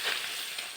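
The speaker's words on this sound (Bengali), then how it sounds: "এবার মাছগুলোকে ভেজে নেওয়ার পালা।" Fish rubbed with salt and turmeric hit hot oil in a pan, a bright, continuous hiss and sizzle heard close up, brief and steady with no voices.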